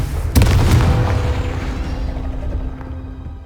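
A Confringo fire-spell blast in the video game Hogwarts Legacy goes off as one loud, deep boom, and a long rumbling tail slowly fades after it.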